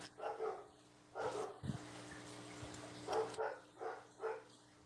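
A few distant dog barks come in short bursts over quiet background noise, faint and spaced apart.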